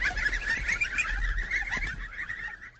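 Geese on a walnut orchard farm in Périgord honk and cackle continuously as a flock, a busy, moderately near chorus over low outdoor rumble with no talk.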